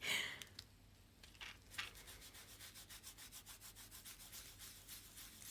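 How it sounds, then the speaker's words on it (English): Sponge dabbing distress ink onto a paper tag for a junk journal, a quiet papery rubbing that settles into a steady, rapid rhythmic scrubbing, close and faint with no talk. "I'm really liking this sponge actually."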